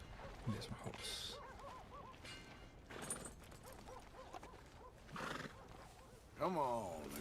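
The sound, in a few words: horse neighing in video game Red Dead Redemption 2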